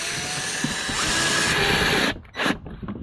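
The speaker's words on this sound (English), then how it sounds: "we're going to use some screws to screw this in nice and tight" A power drill whines steadily as drywall screws are driven in to mount a lithium battery on a 2008 Club Car Precedent golf cart, its pitch rising before it cuts off abruptly, followed by a couple of short bursts.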